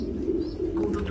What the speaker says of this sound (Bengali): এখানে দেখতে পাচ্ছেন একজোড়া গ্রিজেল কবুতর